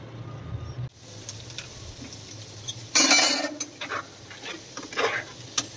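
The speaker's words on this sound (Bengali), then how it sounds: "এই যে চিকেন কষানো হচ্ছে" Chicken sautéed in a nonstick pan on a gas stove, with a close, continuous sizzle, scraping stirs and a louder burst of frying around the middle, then irregular utensil clinks.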